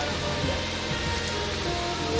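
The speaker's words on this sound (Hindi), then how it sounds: "बारिश हो रही है" Rain falls steadily in a dense, even wash of noise with a low rumble underneath, holding constant throughout.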